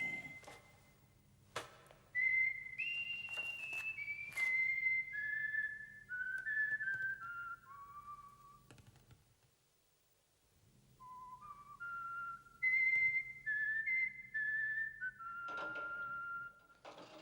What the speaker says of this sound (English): And he's whistling. That's a nice whistle.